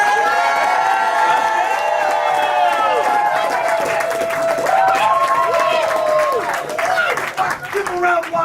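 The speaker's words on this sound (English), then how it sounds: "make some noise for Janelle" Loud, continuous clapping and cheering fill the room as an audience at an Atlanta celebration event salutes a participant, voices whooping over the applause with a slight dip toward the close.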